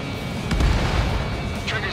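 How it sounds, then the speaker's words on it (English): An anti-aircraft gun is blown up in the Ace Combat 7 flight game. A single deep, rumbling boom swells and rolls away, heard together with voices. "Taking out one of the AA guns."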